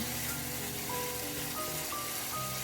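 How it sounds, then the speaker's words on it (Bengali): Spice paste sizzling in hot oil while being stirred down for a small tengra fish curry, a steady soft crackle and hiss throughout with faint background hum. "এখন ডেকে মশলাটা ভালো করে কষিয়ে নিব এই তো তেল ছেড়ে দিয়েছে মশলা থেকে"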